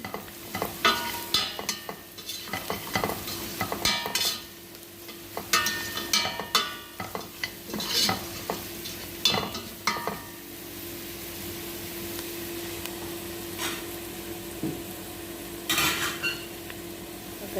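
Spoon stirring coriander, cumin, turmeric, baharat and curry powder in a hot pan while frying rice with tilapia, giving repeated scraping and clinking strokes over a soft sizzle, close and fairly quiet, with no talking.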